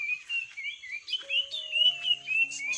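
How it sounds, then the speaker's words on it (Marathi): Several birds chirp and whistle in bright, overlapping calls in a garden on a misty morning, with a steady twittering song running throughout and a few lower sustained tones joining partway. "पक्ष्यांचा आवाज घ्या"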